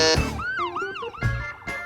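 An emergency vehicle siren wails nearby, its pitch sweeping up and down rapidly, loud and piercing with some mechanical bursts mixed in.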